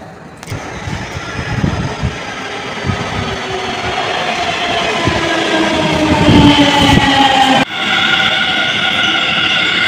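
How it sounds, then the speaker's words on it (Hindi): A metro train pulling into a station in Noida, its motor whine rising in pitch and growing louder as it arrives, with a sudden shift in tone near the end, loud and close. "ट्रेन आ गई है"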